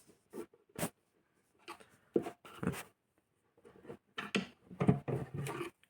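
Scraping, clicking and tapping of a screwdriver prying open the housing of a Lamdalux Lungo lamp, irregular close bursts separated by short silences.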